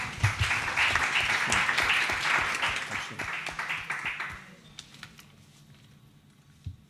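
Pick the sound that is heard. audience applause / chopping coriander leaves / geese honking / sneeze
audience applause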